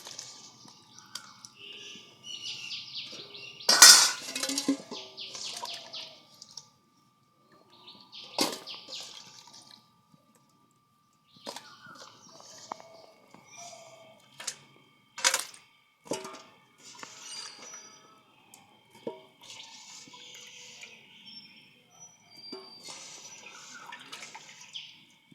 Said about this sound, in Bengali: দেখুন বন্ধুরা, এবার চুন জল থেকে এগুলো তুলে নেব।